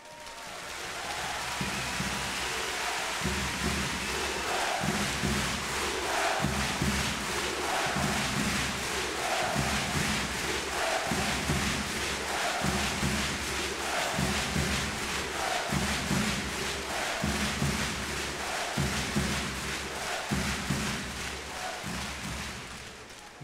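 At Uwe Gensheimer's farewell event, a large audience claps in rhythmic unison with cheering, producing loud, steady bursts of applause that repeat about every second and a half for the whole stretch.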